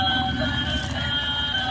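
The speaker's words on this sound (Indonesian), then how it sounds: "Dan kereta api Thomas yang pakai baterai." A battery-powered Thomas toy train runs steadily along its track with a continuous close whirring motor hum and faint rattling, plus thin high-pitched tones over it.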